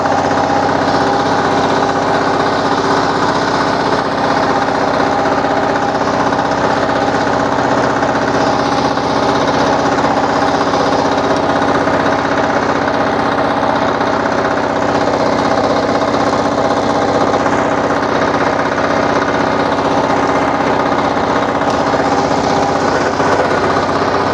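Husqvarna TF440 walk-behind tiller engine running at a steady, loud drone with a constant rough mechanical clatter, unbroken and close for the whole stretch, with no voices.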